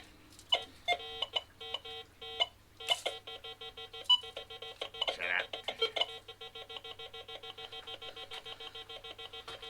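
A Mars Gauss metal detector sounds its alarm: repeated electronic beeping tones in rapid bursts, rhythmic and insistent, close and fairly clear, growing denser toward the middle before stopping.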